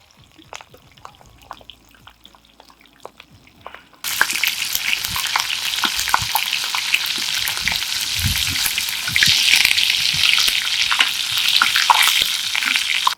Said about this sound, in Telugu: ఆయిల్ కొంచెం లోపలికి కూడా పోతుంది, పోయి చక్కగా ఫ్రై అవుద్ది అనమాట